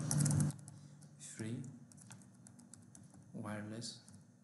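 Network name being typed on a computer keyboard, a light patter of key clicks between bursts of someone talking, close and quiet.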